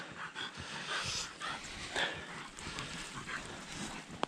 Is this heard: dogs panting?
yes